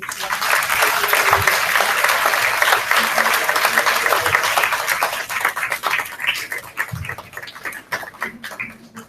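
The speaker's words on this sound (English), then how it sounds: "Let's clap our hands together for Lefairy as he leaps on down the runway." An audience of families claps for a child at a kindergarten fashion show at Hanover Elementary, a lively crowd of hands that is loud at first and then thins to scattered claps, with voices and cheers mixed in.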